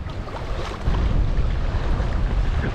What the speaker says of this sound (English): It's this wind though. Bloody wind.